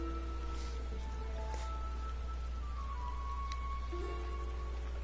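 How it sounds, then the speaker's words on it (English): Steady rain falling in the Final Fantasy XIV video game, a constant soft hiss of drops with a low rumble beneath, even and unbroken, a few faint tonal notes drifting over it. "What a terrible day for rain."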